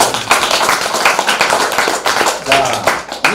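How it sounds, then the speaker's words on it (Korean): A crowd at a healing camp bursts into close, lively clapping, uneven bursts of hand claps with voices mixed in under them. "자신을 위해서 박수 한번."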